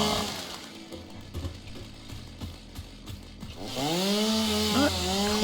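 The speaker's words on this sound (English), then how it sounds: "solid biofuel to run my chainsaw" A chainsaw in the video game Satisfactory, powered by solid biofuel, buzzes with sputtering revving at first, then rises into a loud sustained whine with sweeping pitch changes.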